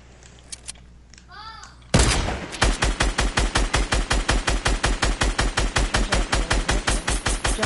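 Gunfire in a PS4 video game, a faint voice and small sounds first, then a sudden long burst of rapid, evenly spaced automatic shots, loud and close.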